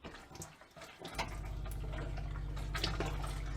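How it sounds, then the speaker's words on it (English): Hot water runs steadily from a tap fed by a Truma boiler in a Fiat Ci Carioca 656 motorhome, a continuous close splashing gush that starts abruptly after a brief moment of quieter rustling. "Have we got lovely scalding hot water?"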